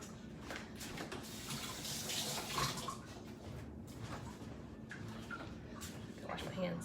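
A kitchen sink tap runs steadily while hands are washed, a soft continuous splashing rush heard close with a few faint knocks and a brief voice.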